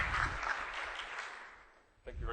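A lecture audience applauds a speaker taking the stage for a talk on microfiche digitisation at the Internet Archive; the clapping is loud at first, thins out and fades, and then a voice begins speaking near the end.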